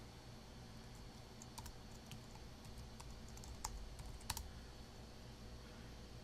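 Quiet typing on a computer keyboard, a soft patter of key clicks with a few sharper, louder taps near the middle, with no talking.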